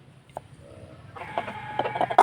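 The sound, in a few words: sick chicken with snoring respiratory breathing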